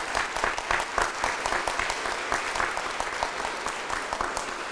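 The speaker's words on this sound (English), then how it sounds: "So can we have a round of applause for Laura?" Audience at a disability access and inclusion awards ceremony applauds steadily for several seconds, a dense, even wash of many hands clapping with no talk over it.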